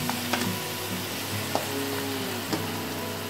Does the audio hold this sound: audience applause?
no